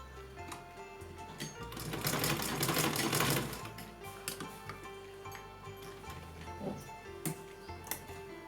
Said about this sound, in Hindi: और यहाँ एक सिलाई हम बीच में लगा देंगे। एक इधर से लगा देंगे हम।